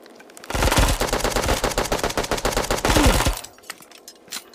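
Automatic gunfire in the mobile shooter game Bullet Echo: a sustained, rapid burst of loud shots lasting about three seconds, then quieter scattered sounds.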